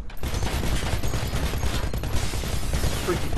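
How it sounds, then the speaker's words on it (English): Titan gunfire in Titanfall roars as a dense, continuous burst of heavy automatic shots, loud and close for the whole stretch with no pauses. "Freaking eat my Titan bullets"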